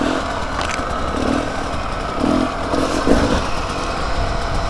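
A Beta RR300 two-stroke enduro motorcycle climbs a hill, its engine buzzing and revving steadily at moderate distance, rising and falling in pitch as the throttle changes.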